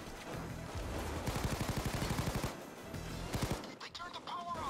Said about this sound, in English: this AK is stupidly good fucking with a single fire